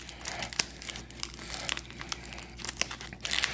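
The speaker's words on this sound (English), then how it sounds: "get rid of some of this sticky tape" Sticky packing tape is peeled and crumpled off a cardboard shipping package, giving close, continuous crinkling and tearing with sharp bursts throughout.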